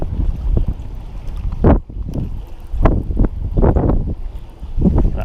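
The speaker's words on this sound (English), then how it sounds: "you can see the kind of wind I'm in right now" Wind gusting over a fishing boat out on the water, rough buffeting bursts and rumbling microphone noise rising and falling in uneven surges, loud and close with no talking.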